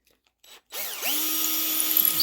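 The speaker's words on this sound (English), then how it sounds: "Just drilling these out a little" A power drill bores out plastic pinball playfield posts: after a short silent pause the motor spins up with a rising whine, then holds a loud, steady, close drilling tone with small surges and no talk.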